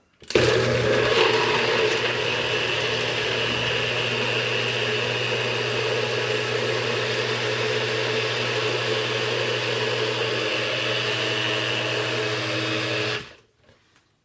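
A blender grinds frozen fruit into a thick, ice-cream-like shake: a loud, steady motor whine with a rough grinding start, holding constant for about thirteen seconds before cutting off abruptly.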